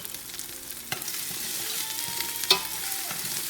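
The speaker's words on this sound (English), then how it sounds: "I'm still going to be frying it." Steady sizzling of yam frying in a pot, with occasional scraping stirs and a couple of sharp clinks of a utensil against the pot.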